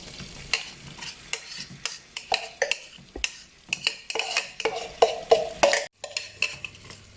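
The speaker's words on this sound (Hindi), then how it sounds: "और मैं इसमें चॉप की हुई प्याज डाल रही हूँ।" Chopped onion going into a pan of melting fat for chicken malai handi, a spoon scraping and clinking repeatedly against the pan with soft sizzling, close and uneven.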